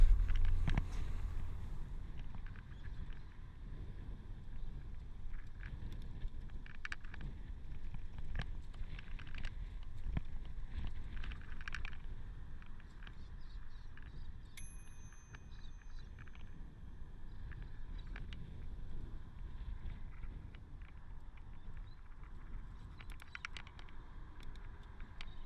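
Steady wind rushes across the microphone while riding an e-bike on an old shared path in Bathurst, a continuous low buffeting roar with faint clicks and rattles mixed in.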